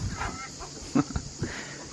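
Soft quacking and clucking from a few nearby ducks over a noisy background, with short calls scattered through.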